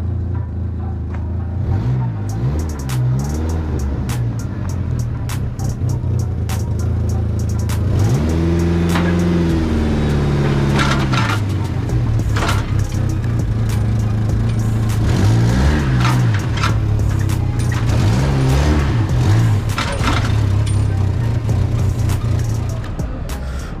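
A fully built Dodge SRT-4 engine idles with a low rumble and revs up repeatedly, loud and close, its pitch rising and falling in several surges.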